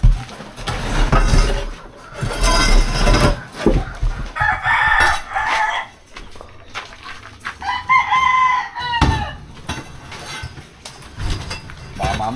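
Chickens cluck and a rooster crows repeatedly at close range in a rural setting in Lumban, Laguna, loud and lively, with scattered voices talking among the bird calls.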